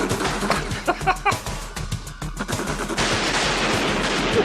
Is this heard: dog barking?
no